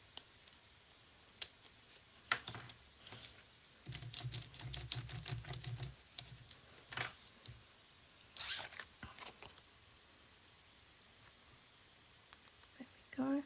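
Card paper being trimmed for a handmade split card, giving scattered close snips, scrapes and clicks with a buzzing rasp midway, with soft background sounds between the bursts.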